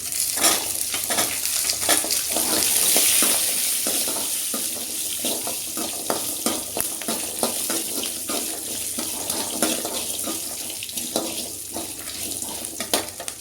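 Food fries and sizzles in a pan during home cooking, a dense crackling hiss with irregular stirring scrapes and spatters, close and steady with no talking.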